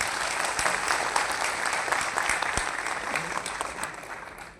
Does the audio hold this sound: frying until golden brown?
no